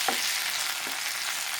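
Masala paste with turmeric powder sizzles steadily in a pan for a Goan fish curry, a dense, even frying hiss with no pauses and no voices.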